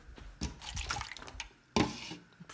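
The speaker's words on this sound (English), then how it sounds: "That cup was full of fucking water, and now my computer's soaking wet." Water spilling from a full cup onto a computer, a few close splashy patters and drips, with a sharper splash near the end.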